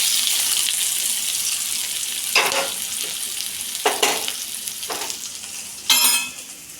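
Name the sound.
onions frying in oil in a kadai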